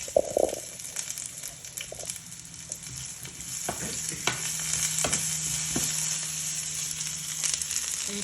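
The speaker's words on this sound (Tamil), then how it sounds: "தாளிக்கிறேன், போட்டு தாளிக்கிறேன்" Spices tempering in hot oil for a bitter gourd curry: steady sizzling and crackling throughout, with occasional stirring clatter and sharp pops, heard close with no voices.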